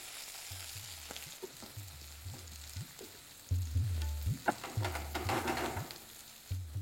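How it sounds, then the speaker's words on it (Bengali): Capsicum with cashews and roughly chopped coriander frying over a high flame for a paneer and potato curry, giving a steady close sizzle with repeated stirring scrapes and clinks in the pan. "তারপর ফ্লেমটাকে হাই রেখে এটাকে ভালো করে আপনাদের ভেজে নিতে হবে।"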